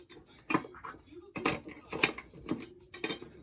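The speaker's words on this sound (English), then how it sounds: "I'm going to put this lock together. So I'm going to put the bolt in." Small metal parts of a mortice lock clink and click as a bolt and spring are fitted into the lock body by hand, several sharp close taps and rattles in short bursts separated by brief pauses.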